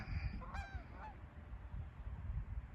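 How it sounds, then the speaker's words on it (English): Waterfowl near a parking lot in Ortonville, Minnesota give a few loud nasal honks in quick succession, then quieter calls, over low steady background rumble. "This duck's fine."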